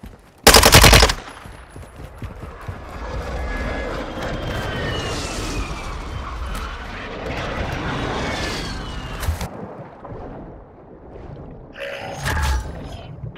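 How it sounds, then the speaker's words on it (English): Incoming airstrike in the Warzone video game: a sharp loud burst of gunfire, then a long roaring rumble of aircraft and explosions with scattered shots, fading into quiet before a final short burst. "Enemy airstrike on the way."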